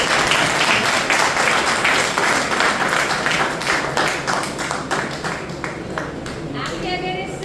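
An audience claps together in a dense, sustained round of applause, loud at first and gradually thinning out as it fades toward the end, with some voices mixed in.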